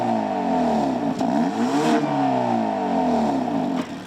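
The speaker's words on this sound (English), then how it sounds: "I believe this is the engine Hyundai sampled for the Ioniq 5N's performance sounds." A 2024 Hyundai Elantra N's turbocharged 2-liter four-cylinder with variable-valve exhaust revs repeatedly, its pitch sweeping up and down in several loud, close blips with no talking.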